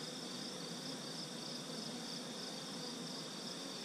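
Honey bees at an opened hive during an inspection make a dense, continuous buzzing hum close by, steady and fairly faint, with no voices.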